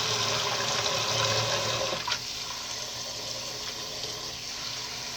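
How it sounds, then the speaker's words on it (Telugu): Tap water rushing into a large bowl for washing, a loud steady gush that shifts in tone partway through as the bowl fills, close and with no voices. "దాని నిండికి నీళ్లు పట్టి బాగా కడిగేస్తాను."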